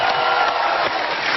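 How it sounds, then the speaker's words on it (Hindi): Studio audience at a TV comedy show applauding and cheering loudly, a dense continuous roar of clapping and whoops from a large crowd close by. "जोरदार तालियां हो जाए"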